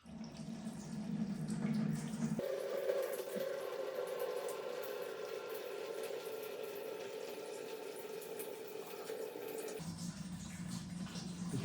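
Water pours in a steady stream into a kayak scupper for several seconds, a hollow rushing flow with a brief change in tone before and after.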